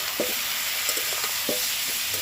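Duck egg curry with potatoes and whole tomatoes, just seasoned with garam masala, stir-fried in a pan: a constant bright sizzle with several soft spatula scrapes, no talking.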